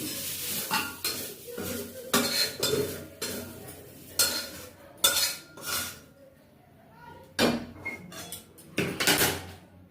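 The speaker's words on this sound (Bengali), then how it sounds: "আমি এটা কুকারে দিয়ে সেদ্ধ করবো তাই একেবারে কুকারের মধ্যে করে দিচ্ছি" Fried vegetables are scraped into a pressure cooker, with metal utensils clanking and scraping against the pot in repeated loud bursts separated by short pauses, all close by.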